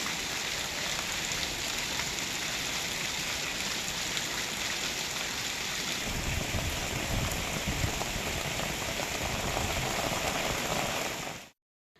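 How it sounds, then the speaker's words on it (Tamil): Heavy rain pours over the Western Ghats hills in Tamil Nadu as a steady, dense hiss that grows stronger midway, then cuts off abruptly near the end. "பிற்பகலில் வருசநாடு, கடமலைக்குண்டு உள்ளிட்ட மேற்கு தொடர்ச்சி மலை பகுதிகளில் கனமழை பெய்தது"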